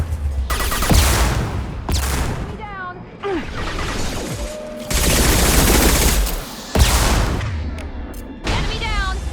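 Gunfire in the sci-fi shooter Mass Effect Legendary Edition, with sustained loud bursts of automatic weapon fire and impacts over continuous battle noise, occasional whooshing energy effects, and voices calling out during combat.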